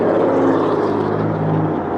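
An Onan 2.8 generator runs aboard a 2000 Leisure Travel Class B camper van on a Dodge 3500 chassis, giving a loud, steady droning hum with a fixed low tone, close and continuous, with no talking.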